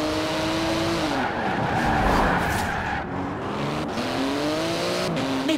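A 700-horsepower 3.8-litre flat-six twin-turbo carbon-fibre car driven hard in Forza Horizon 4, engine note rising and falling through gear changes with tire squeal and skidding, loud and close.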